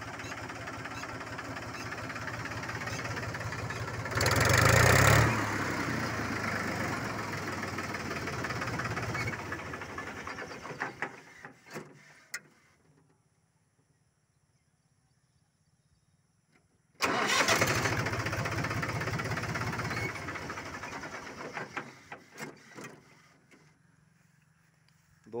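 A 1997 Mahindra 265 DI tractor diesel engine cranks with a loud burst, then idles steadily before cutting off. After a silent gap it fires up again loudly and keeps running close by, with no talking over it.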